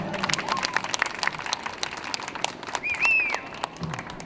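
Applause from an audience at a World Music Day event in Ümraniye, Istanbul, a dense crackle of clapping hands throughout, fairly close and steady, with a brief whistle-like tone rising over it near the end.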